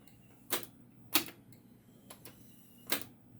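Logic-control transport keys on a TEAC A-3300SX four-track reel-to-reel tape recorder are pressed, giving about five sharp mechanical clicks at irregular intervals over a quiet background.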